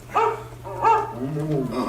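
A dog barks in an animated show scene at a Walt Disney World attraction in Magic Kingdom, two short close barks followed by a whining yelp over a steady background hum.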